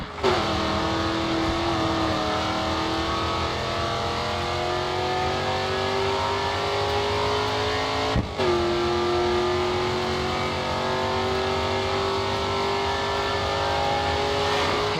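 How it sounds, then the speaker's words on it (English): A race car engine at full throttle in Grid 2, holding a loud, steady high-revving roar with rising pitch and one abrupt gear shift midway, close and continuous. "All right, full throttle now, coming onto the final straight"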